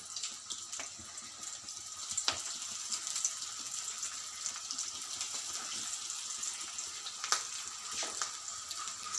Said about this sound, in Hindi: अब हम रोल्स को फ्राई कर लेते हैं।